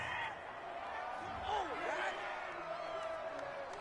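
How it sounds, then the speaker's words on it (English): Home crowd in the Madden 21 football video game cheers after a pass interference call, a broad, fairly quiet roar with a few whoops rising and fading over steady stadium noise. "This home crowd, they're happy with that call."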